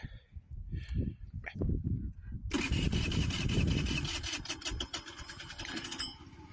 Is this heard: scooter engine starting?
yes